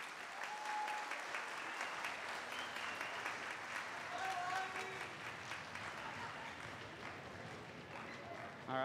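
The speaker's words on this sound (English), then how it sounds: "Let's give a round of applause for all these bodies on stage." Sustained applause from a school auditorium audience at a middle school winter instrumental band concert, with around 170 students on stage: dense, steady clapping that keeps a constant level for the whole stretch, with faint voices and cheers mixed in.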